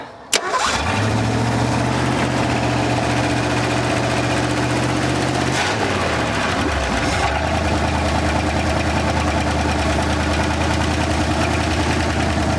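An abandoned 1974 Ford Bronco engine cranks and fires, then settles into a steady, loud idle that runs without a break, with a brief change in tone partway through and no talking.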